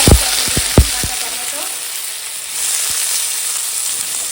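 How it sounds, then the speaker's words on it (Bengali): Mustard seeds and dried red chillies crackle and sizzle in hot oil in a kadai, with a few sharp pops at the start settling into a loud, continuous frying hiss. "এখন দিয়ে দিচ্ছি এই যে সর্ষে আর শুকনো লঙ্কা ফোড়ন"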